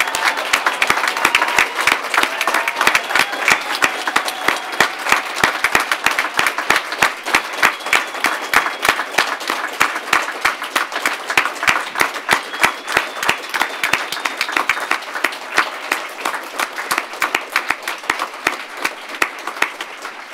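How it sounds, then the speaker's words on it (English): A standing crowd at the Royal College of Surgeons diplomate ceremony claps for the new diplomates, a long, full-room burst of dense applause that holds strong for about twenty seconds. "want you to give a big round of applause to the diplomates"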